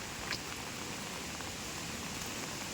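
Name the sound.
rain falling on a misty mountain trek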